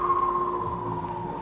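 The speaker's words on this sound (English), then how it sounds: "That's the sound of the mouse disappearing back into its burrow." An electronic synthesizer sound effect meant as a mouse slipping back into its burrow: a steady, sustained tone that fades slowly over a long decay, heard alone with no talk.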